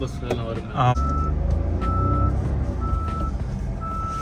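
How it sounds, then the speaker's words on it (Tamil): Soft warning beeps from a 2024 Maruti Dzire car repeat at a steady, even rhythm under continuous road and cabin noise, with a voice talking briefly near the start. "இதோட வார்னிங் சவுண்டும் வந்து சாஃப்டாகவே கொடுத்துருக்காங்க."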